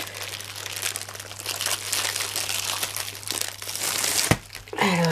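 Packaging crinkling and crunching as parcels of canvases are opened, close and continuous rustling with a sharp tear near the end and a low hum underneath.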